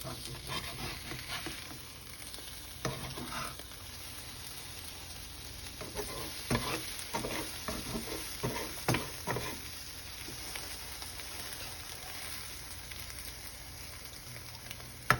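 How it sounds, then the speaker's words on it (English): Eggs frying in a pan on a stove, a faint, steady sizzle with scattered pops and a few spatula scrapes and knocks around the flip. "Now we're gonna flip our eggs."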